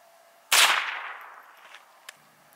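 Single sharp crack of a Ruger 10/22 rifle firing a Browning BPR .22LR round outdoors, with a short decaying echo after it and a faint click a moment later, otherwise quiet.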